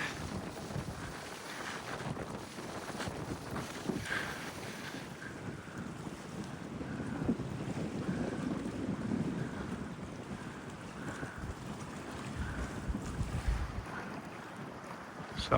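Wind blowing outdoors on French Island, a steady broadband rush and microphone buffeting that persists throughout with gentle swells in strength, no voices heard.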